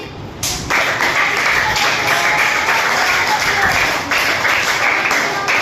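Students clap together in a classroom, giving a loud, steady wash of dense applause that starts abruptly and carries on without a break.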